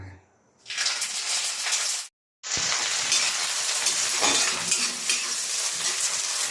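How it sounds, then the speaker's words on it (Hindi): Neem leaves frying in hot oil in a home kitchen, a loud, dense crackling sizzle that starts abruptly, cuts out for a moment, then surges back and continues steadily close up. "ये नीम पत्ती को उसको पहले फ्राई करके निकाल लेना है।"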